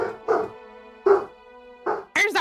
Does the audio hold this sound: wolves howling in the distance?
yes